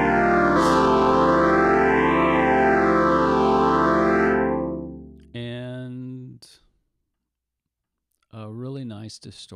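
Cherry Audio Mercury 6 software synthesizer with distortion engaged, sweeping a gritty, buzzy chord up and down before cutting off, then two shorter distorted bursts separated by silence.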